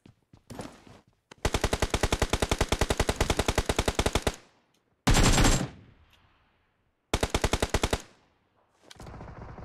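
Bursts of rapid automatic gunfire from BGMI (PUBG Mobile) on the Erangel map, with several long rattling volleys separated by short silences and one heavier single blast in between. No one speaks.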